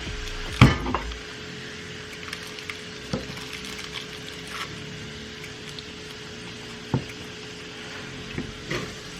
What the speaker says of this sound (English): I have mushrooms sauteing on the stove.